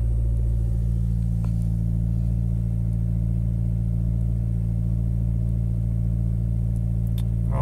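A Chevy Volt's engine runs steadily at elevated RPM while charging its battery, a constant loud droning hum with a few faint clicks near the end.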